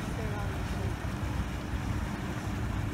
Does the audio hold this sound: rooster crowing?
no